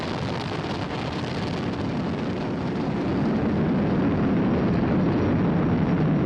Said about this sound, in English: Flying crew on board Dragon and Falcon 9, and look at them go.